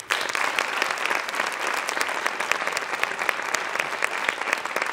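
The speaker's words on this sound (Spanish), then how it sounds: "Un aplauso." An audience at a Fuckup Nights speaker event applauding the first speaker, dense sustained clapping from a crowd, steady and close for several seconds.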